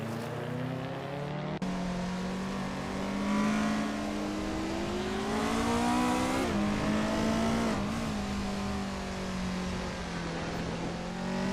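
AI-driven race cars in a video game roar along continuously, their engine tones climbing and dropping as they rev and shift, with a loud, steady racing drone throughout and no voices.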